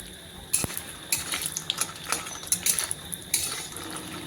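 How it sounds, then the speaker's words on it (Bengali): Urad dal lentil dumplings (bori) frying in oil in a wok, with sharp metal clinks of a spatula against the pan over a light, crackling sizzle, close and unvoiced. "প্রথমে ডালের বড়িগুলো আমি ভেজে নিচ্ছি"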